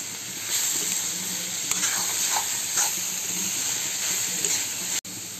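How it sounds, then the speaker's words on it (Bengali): Shredded cabbage frying gently in ghee over medium heat: a continuous soft sizzle with a few light stirring scrapes, ending in a brief cut near the end. "এরপরে বাঁধাকপিটাকে মিডিয়াম আঁচে আস্তে আস্তে করে ভাজতে হবে।"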